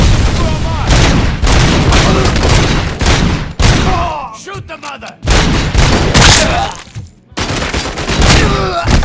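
Heavy gunfire in the Robocop: Rogue City game, loud dense bursts of rapid shots and booms with brief pauses between volleys, close and continuous, with shouting mixed in.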